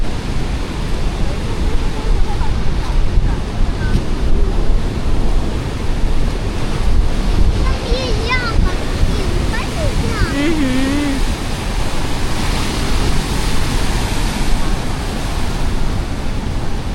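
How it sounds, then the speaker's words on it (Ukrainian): Big sea waves crash on a beach in Vietnam, a loud, continuous roar of surf mixed with wind buffeting the microphone, with faint voices heard in the middle. "Бачиш, яке сьогодні море, яка хвиля велика."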